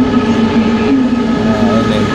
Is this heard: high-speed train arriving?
yes